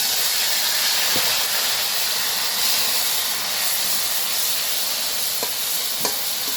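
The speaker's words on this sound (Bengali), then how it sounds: "এখন শাকটা ঢেলে দিই।" Leafy greens hit a hot pan with onions and set off a loud, steady hiss of sizzling steam, close and continuous, with a few faint clinks of stirring.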